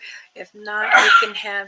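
A single sharp sneeze bursts out close to the microphone, loud and broadband, set between stretches of someone talking.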